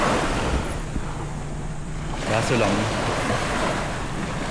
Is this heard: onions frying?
no